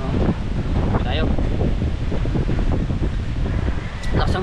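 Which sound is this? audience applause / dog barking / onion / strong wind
strong wind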